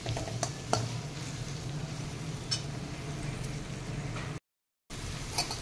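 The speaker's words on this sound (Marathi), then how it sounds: "आता याच्यामध्ये गाजर घालूया, गाजर 1-2 मिनटं परतून घेऊया" Carrots sautéing for paneer pulao, a soft continuous sizzle with occasional light scrapes of a spoon, broken once by a brief silence.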